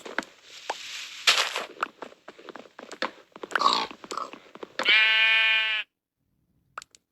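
A loud, clearly pitched sheep bleat rings out for about a second after scattered clicks, chops and soft whispery voices, then silence with a couple of faint ticks.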